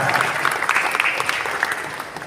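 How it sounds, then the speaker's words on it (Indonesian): A crowd claps steadily for a couple of seconds, dense and continuous applause at moderate volume with no voices standing out. "Tepuk tangan dulu"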